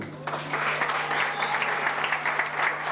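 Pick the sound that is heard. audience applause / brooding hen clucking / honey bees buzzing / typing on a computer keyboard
audience applause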